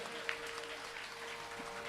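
Faint, steady applause from an audience at a village Shrimad Bhagavat Katha religious discourse, welcoming the preacher. It runs evenly for about two seconds as a soft, distant wash of clapping with no distinct rhythm.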